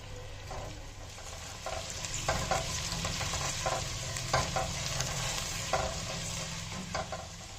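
Green capsicum pieces stir-fry in a hot pan for restaurant-style chicken manchurian, a continuous sizzle broken by regular scraping strokes of a spatula, close and fairly loud with no voices.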